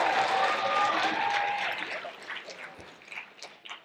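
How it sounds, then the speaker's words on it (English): Applause from a school show audience for the backstage crew, full at first and then tapering into scattered claps and crowd murmur. "give them a round of applause for all their hard work"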